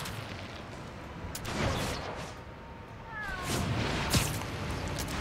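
A cat meows in the video game Spider-Man: Miles Morales, a couple of short mewing calls set over a busy, noisy game soundtrack with bursts of action sound.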